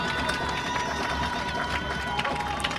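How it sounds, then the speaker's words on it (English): Spectators at a Class B state quarterfinal high school football game, Kindred against Central Cass, keep up a dense, sustained roar of cheering, even in level throughout with scattered sharper shouts and faint speech underneath. "You can hear the crowd."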